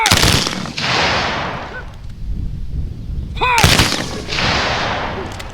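Rifle volleys fired by a firing party at a military shoot in Alberta: two loud, sharp simultaneous cracks several seconds apart, each followed by a long rolling echo across open ground.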